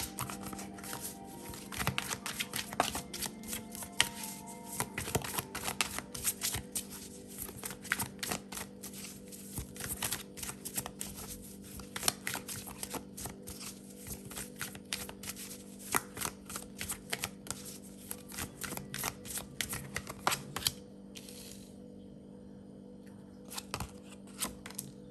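Tarot cards shuffled and pulled from a deck, a long run of dense, crisp riffling and flicking close by, with a steady tone beneath and brief pauses near the end.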